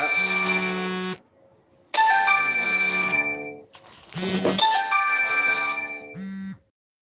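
A telephone rings loudly in three long bursts with short gaps between them, followed by a brief fourth chirp. Nobody speaks.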